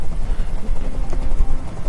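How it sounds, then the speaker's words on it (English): A helicopter in a video game thuds with a steady, loud rotor chop close by, a rough rhythmic pulsing filling the whole moment without talk. "Tell that helicopter to get out of here."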